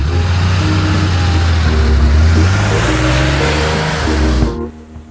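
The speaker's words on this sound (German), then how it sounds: "Die Tonlage ist ziemlich tief, ich würde sagen dunkler, sonorer als bei den Vorgängermotoren." A Porsche 911 3.2 Carrera engine revs up close and loud with a deep, sonorous tone, the pitch climbing steadily before it drops back and the sound fades out.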